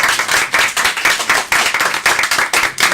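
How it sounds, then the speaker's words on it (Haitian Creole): Audience clapping for deputy Géraud Charles at a conference, a dense burst of applause with steady rhythmic hand claps, close and loud throughout. "on applaudit monsieur Géo Charles"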